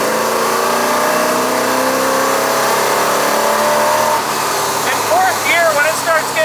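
A 1972 Chevrolet Nova V8 with a new exhaust pulling hard under load, a loud rising engine drone with a voice talking over it near the end.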